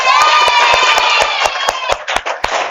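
A seventh-grade Islamic religious studies class applauds together, with loud, dense clapping mixed with children's excited voices and cheering, a few sharp claps standing out as the burst starts to break up.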